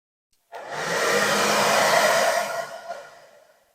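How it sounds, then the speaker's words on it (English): A hair dryer, used to dry paint on a diecast model, switches on abruptly and blows with a steady, loud whooshing whir for a few seconds, then winds down and fades. "So I'll just get the hairdryer and plug it in."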